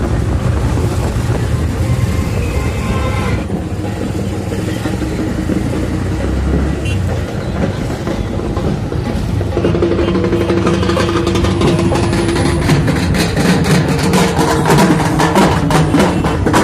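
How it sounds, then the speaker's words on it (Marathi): Auto rickshaw engine droning continuously during a ride through town on Bhim Jayanti day, mixed with heavy wind buffeting and traffic noise throughout. "सो आम्ही जाणार आहे रिक्षाने."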